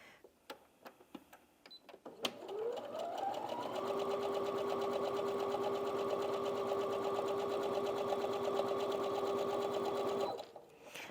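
A Brother Inventio NV1850Q sewing machine runs a straight piecing stitch, starting after a few light clicks, ramping up quickly and then humming at an even, fast pace for several seconds before stopping.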